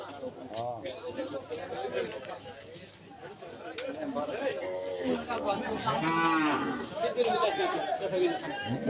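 Cattle at a busy village market ahead of Eid sacrifice lowing repeatedly, several moos near and farther off over a crowd of people chattering and calling out throughout.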